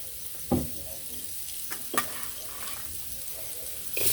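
Onion and garlic frying in oil on a clay stove at night in winter, a soft steady sizzle broken by a few sharp scrapes and clinks of stirring, close and quiet with no talking.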